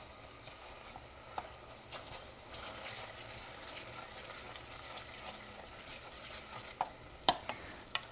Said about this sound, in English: We'll stir that around so it can kind of be melting.